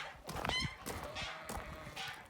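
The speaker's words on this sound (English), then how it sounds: "geese are yelling at me" Geese honk nearby on a farm in a short burst of harsh, overlapping calls, fairly faint against quiet outdoor background.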